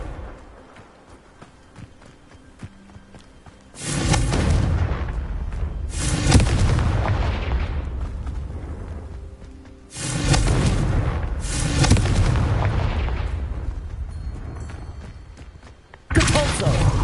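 Confringo fire-spell blasts in the Hogwarts Legacy video game: four heavy, booming explosions land several seconds apart, each a sudden loud burst that rumbles and fades slowly, with a quieter lull at the start before the first.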